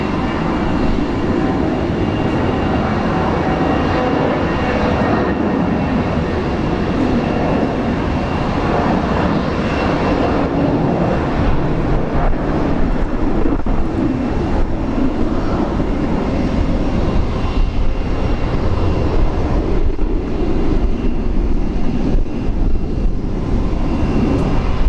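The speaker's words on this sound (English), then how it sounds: "Let's enjoy the sound of this one. Incredible engine sound, Fokker Alliance Airlines" Alliance Airlines Fokker airliner engines at Brisbane International Airport, a steady, loud, broad roar that holds for the whole stretch with a faint rising whine, no voices over it.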